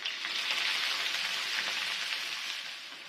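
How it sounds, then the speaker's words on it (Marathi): Sliced onion and green chillies frying in hot oil in a pan, a steady, close, bright sizzling hiss that holds evenly throughout with no voices. "कांदा आणि मिरची आपल्याला तेलामध्ये घालून घ्यायची आहे"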